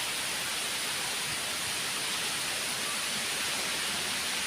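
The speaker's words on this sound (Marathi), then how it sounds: "पाऊस पडताना किती सुंदर दिसतो नाही" Rain pours over Erandol town in a cool wind, a dense, even hiss that stays constant throughout with no breaks and no voices.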